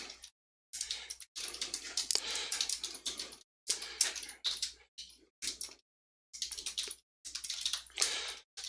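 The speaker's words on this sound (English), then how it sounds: "Must, or I wouldn't be typing this" Computer keyboard typing in bursts of quick, close clicks separated by short pauses, steady and fairly quiet with no voices.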